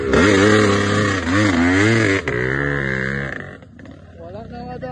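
Enduro motorcycle engine on a dirt trail revving hard, a loud, close, rising and falling whine with rapid pitch sweeps that eases off and settles toward the end.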